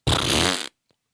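A single loud, buzzy fart sound effect rips for about half a second and cuts off abruptly, followed by silence.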